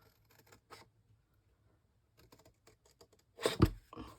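Scissors cutting paper while making a pouch gift box: soft, close crinkling snips and paper rustles in scattered bursts, ending in a louder cluster of crunchy cuts.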